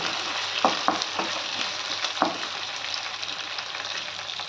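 Raw mango pieces frying in a pan for a jaggery mango curry, a steady soft sizzle with a few distinct scrapes and clinks of a spoon as the pieces are stirred, close up and with no voices.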